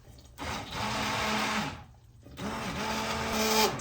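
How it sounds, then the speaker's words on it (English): An immersion blender whirs through hot tomato sauce with garlic and onions, two steady bursts of motor drone separated by a short pause, close and fairly quiet. "I have the immersion blender here, and I'm going to blend this up very, very slowly because it's really hot."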